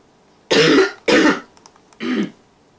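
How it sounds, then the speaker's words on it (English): Three close, short coughs or throat clears in quick succession in a quiet room, the last slightly softer. "I just had a cough"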